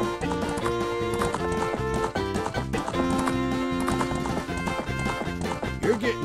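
Horse galloping in The Legend of Zelda: Ocarina of Time, a steady rhythmic clip-clop of hooves mixed with game music and an occasional whinny, loud and continuous throughout.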